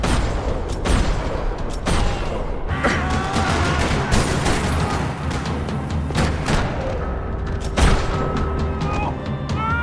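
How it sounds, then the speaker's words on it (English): Gunfire rattles through a parking lot in the video game Max Payne 3, loud and dense, with repeated sharp shots and bursts, booming impacts and clatter coming continuously from several directions. "Another parking lot rattling with gunfire."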